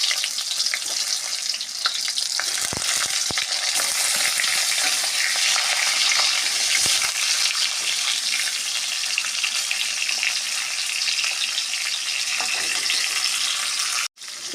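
Stuffed pointed gourd (potol dorma) frying in oil, a loud, continuous hissing sizzle heard close up with faint occasional scrapes, and no voices.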